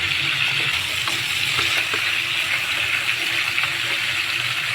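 A salmon head sautés in a pan with garlic and ginger, a steady close sizzle with faint stirring clatter and no talk.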